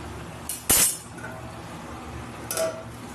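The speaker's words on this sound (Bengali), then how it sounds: "এবার আমি কিছুক্ষণের জন্য ঢাকা দিয়ে দেবো" A metal lid set on a pan of rui fish curry, a sharp loud clink followed by a softer second clatter a couple of seconds later, no talk.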